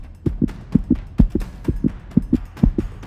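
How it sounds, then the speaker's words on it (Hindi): A steady heartbeat thumps in paired lub-dub beats, about six cycles in a few seconds, low and muffled with a faint hum underneath. "मेरे कानों में मेरे ही दिल की धड़कन गूंजने लगी।"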